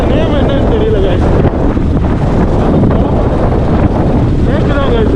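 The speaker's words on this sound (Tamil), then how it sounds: "செம்ம காற்று வருது" Strong wind buffets the microphone beside a large lake along the ECR road toward Pondicherry, a loud constant roaring rush filling the whole stretch, with a voice faintly audible beneath it.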